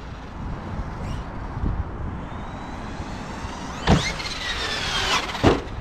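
An Arrma Mojave RC car whines along with a thin electric motor note, then two sharp impacts land near 4 and 5.5 seconds as it jumps off a ramp and touches down, set against steady outdoor background noise.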